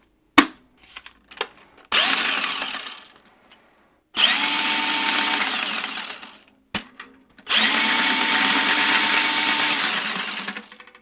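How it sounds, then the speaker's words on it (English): A DOMINOX electric drain auger with a 25-foot plumbing snake spins in forward, whirring in three sustained runs of a few seconds each separated by short pauses and clicks, loud and close with no talk. "But as it spins, it will slowly push that auger forward."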